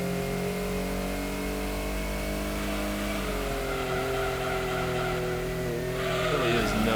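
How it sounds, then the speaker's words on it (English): Honda Civic race car engine in a racing video game, revving steadily at high pitch behind the player's car with shifting harmonic tones, loud and continuous, rising slightly near the end. "Just hear that Civic back there."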